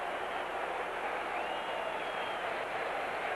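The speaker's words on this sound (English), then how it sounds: "that's the booing you hear now" A large football stadium crowd at an NFL game in 1978 booing, a steady, dense roar of many voices sustained without a break, sounding somewhat distant and washed out.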